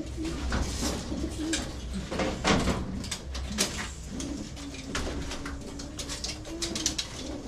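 Racing pigeons coo repeatedly in a loft, with soft throaty calls overlapping close by, along with flapping and rustling, and a brief sliding-door-like sound.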